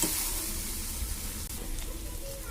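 Fish frying in a pan with soy sauce added, a steady hiss and sizzle filling the short stretch, fairly faint and continuous with no talk.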